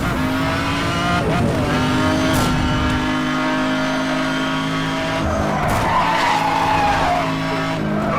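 A car brakes and drifts through a long corner in the Need for Speed Hot Pursuit Remastered video game. Loud, sustained tire squeal and skidding sit over a revving engine, with no talking.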